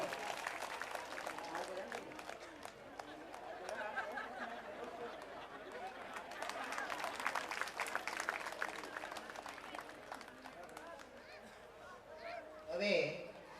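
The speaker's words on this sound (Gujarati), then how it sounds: "જોરદાર તાળીઓના ગણગણથી આપણે શૈલેષભાઈને વધાવી દઈશું." A crowd claps to honour Shaileshbhai at a Shiv Katha gathering. The fairly faint, uneven applause swells in the middle, with chatter and voices mixed underneath.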